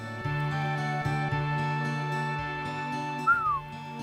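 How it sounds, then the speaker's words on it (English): A whistle in Final Fantasy 7 at the Temple of the Ancients, a short gliding tone near the end over steady droning game music. "If that whistle wasn't too loud, y'all."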